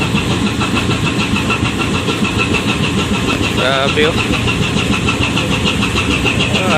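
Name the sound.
ship engine and thrusters during undocking maneuver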